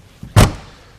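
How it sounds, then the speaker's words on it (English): A motorhome door, on a new Super C diesel coach, is shut once with a single loud, close thud after a faint softer knock just before it. "All right, we'll shut this door."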